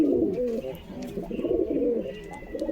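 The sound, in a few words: pigeons cooing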